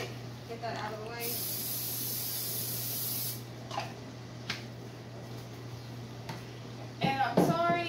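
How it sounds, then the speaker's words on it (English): A cooking spray can lets out one sustained hiss lasting about two seconds into a pan, followed by a few light clicks and clatters over the low hum of a running dishwasher. "I'm just going to spray it so the stuff doesn't stick."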